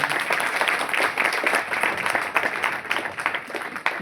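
Audience applause fills the hall: dense, steady clapping from a crowd that stays loud throughout, with no voices above it.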